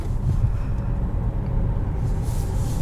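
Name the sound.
2021 Buick Encore Preferred SUV driving on road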